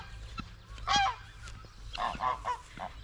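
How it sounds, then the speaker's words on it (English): A domestic goose gives a run of harsh, nasal honking calls at close range, several short bursts coming in an uneven rhythm over a quiet outdoor background. "Our goose, Loosy, has been making a new call"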